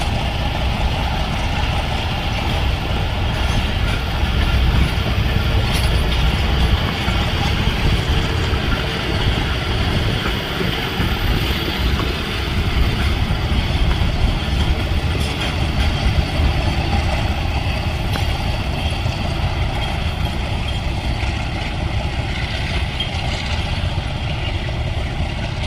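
The Kohat Express 133 Up, a six-coach Pakistani passenger train, accelerates with a heavy, steady low engine roar that stays loud and continuous throughout.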